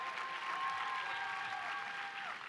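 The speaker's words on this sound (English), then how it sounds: "Let's give them all a round of applause" Sustained applause from a graduation audience at a university ceremony, a broad, even roar of clapping; a faint tonal hum runs beneath the crowd noise throughout.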